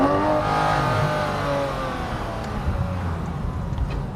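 A 991-generation Porsche 911 GT3 engine accelerates hard from inside the car, a loud rising rev that climbs and then settles into a rougher, throbbing drone.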